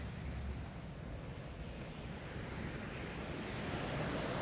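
Evening waves at Stanley Beach in Hong Kong, a faint, steady wash of surf with wind noise buffeting the microphone throughout and no talking.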